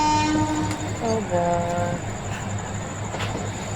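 A video game train pulls into the last station of its line, running on an elevated track above a road. A steady rolling rumble sits under bright, sustained horn-like tones, with no talking.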